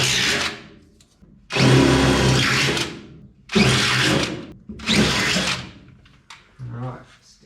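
Power drill with a smaller bit slowly widening holes on a 1951 Chevy Fleetline custom, heard in four loud whirring bursts of a few seconds each, separated by short pauses.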